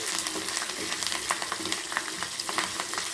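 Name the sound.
hot tempering poured into mango pulissery curry, sizzling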